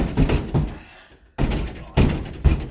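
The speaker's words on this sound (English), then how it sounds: "gonna put my heels in the door again" Several heavy thuds as heels kick a locked double door in quick bursts, loud and close, with a short pause between groups of knocks.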